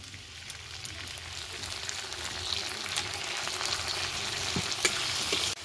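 Potatoes frying with garlic, onion and tomato paste in a pan, a close, steady sizzle and crackle with occasional stirring scrapes, growing slightly louder.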